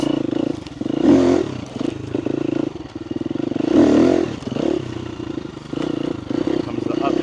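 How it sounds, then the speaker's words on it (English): A KTM dirt bike engine drones steadily while riding on rough ground, its note swelling and easing in loud surges with clattering and scraping underneath, close to the rider. "This KTM has so much more speed than my previous KLX bike."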